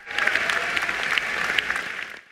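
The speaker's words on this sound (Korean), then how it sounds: "세계적 소프라노 안젤라 게오르기가 이어지는 박수에도 한참 동안 모습을 드러내지 않습니다" Sustained applause from an opera audience at the curtain call after a performance of Puccini's Tosca, a dense, steady wash of many hands clapping throughout with no talk.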